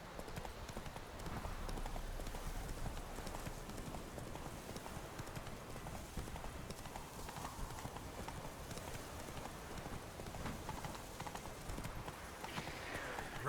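Hoofbeats of the horse Roach galloping in the video game The Witcher 3: a quiet, continuous rapid clip-clop rhythm carrying steadily from start to finish, with no pauses.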